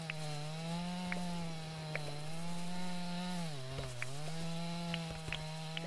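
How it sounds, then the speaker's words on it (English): A chainsaw cutting in the Ohana Island video game gives off a steady, buzzing engine drone with a few brief dips in pitch. It runs continuously and alone throughout. "I'm going to use the chainsaw to do it."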